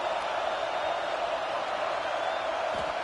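Steady, loud stadium crowd roar from a college football video game, Penn State against Alabama, a dense unbroken wash of noise as the defense tries for a red-zone stop.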